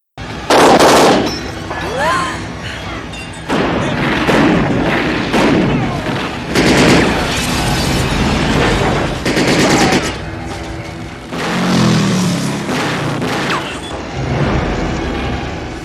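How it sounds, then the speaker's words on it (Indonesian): Film shootout at a motel: repeated bursts of loud close gunfire, rapid volleys and single booming shots with brief pauses, mixed with clattering impacts and shouted voices. "terjadilah baku tembak"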